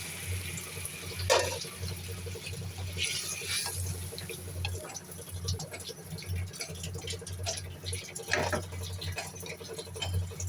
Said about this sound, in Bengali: তো আমার ঢেঁড়সগুলো কষানো হয়ে গেছে, একটু পানি দিতে হবে।